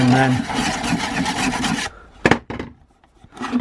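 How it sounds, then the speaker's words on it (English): A diamond sharpener rasps across a steel shredder blade to remove burrs: close, repeated scraping strokes for about two seconds, then a pause and a couple of short, sharp rubs. "Just make sure there's no burrs on with the diamond"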